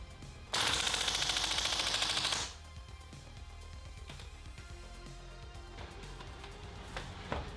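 A WE G36C gas blowback airsoft rifle fires a full-auto magazine dump: a loud, rapid, even burst of shots lasting about two seconds, followed by quieter clattering and handling sounds.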